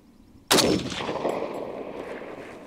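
A single rifle shot from a Springfield Armory M1A Standard Walnut, a sharp loud crack followed by a long fading outdoor echo.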